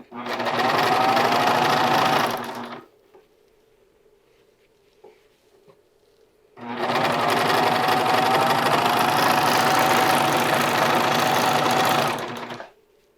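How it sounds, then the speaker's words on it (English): A serger overlocks and finishes the seam allowance of a short cuffed sleeve, running in two long loud bursts with a quiet pause between them, where a faint low hum remains. "I'll be using my serger for that"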